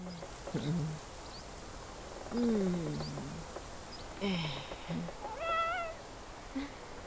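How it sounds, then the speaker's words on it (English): Meows from a cat in a video game, several short calls spaced across the moment, fairly faint and heard alone among quiet game sounds. "And we met our first cat."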